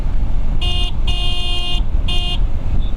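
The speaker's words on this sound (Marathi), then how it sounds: "प्रत्येक ठिकाणी गाडीला क्रॉस करताना हॉर्न देतो आहे" A motorbike horn honks three times in short, bright blasts, the middle one longer, over the rumble of the moving engine on a Munnar hill road.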